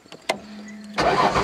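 A 2002 Ford Taurus demolition derby car, battered after its third derby round, cranks with a few short bursts, then fires and catches into a loud, rough engine roar up close.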